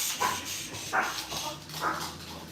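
A dog barks several times indoors, the barks spaced and moderately loud against a quiet room, apparently set off by a trash collection truck outside.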